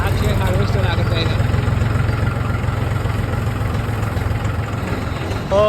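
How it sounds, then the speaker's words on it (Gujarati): A farm tractor driving behind a harvester to another field, a steady low engine drone with rhythmic rumble, loud and close throughout. "આગળ જાય હાર્વેસ્ટર અને હું પાછળ ટ્રેક્ટર લઈને જવું"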